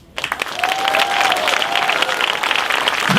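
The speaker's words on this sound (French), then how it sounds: "Continuez de l'applaudir, il est excellent." Loud, dense audience applause rises quickly and carries on steadily after a live stage performance, with a crowd cheering and a few brief whistles through the clapping.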